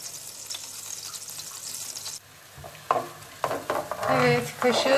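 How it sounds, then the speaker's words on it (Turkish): Onions sautéing in oil in a pan, with a steady frying hiss that drops away midway, then returns with spoon stirs and louder sizzling bursts close up. "Şöyle soğanlarım iyice ölene kadar ve pembeleşene kadar kavurmaya devam edeceğim."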